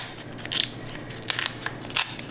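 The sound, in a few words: food scissors cutting meat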